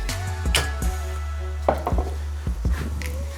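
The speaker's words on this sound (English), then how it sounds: "So we just take a chisel" Several sharp metallic strikes of a hammer hitting a chisel on a metal panel land in an uneven rhythm over a steady low hum, close and fairly loud.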